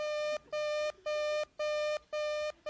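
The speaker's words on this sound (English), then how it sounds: "I'm sorry, that is the metal detector, Mrs. Smith." A metal detector alarm sounds a rapid series of six identical electronic beeps, evenly spaced and loud against a quiet background.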